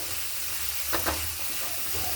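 Onions and vegetables sizzle steadily in a hot pan for an oats breakfast, a soft continuous frying hiss with a couple of brief stirring scrapes partway through.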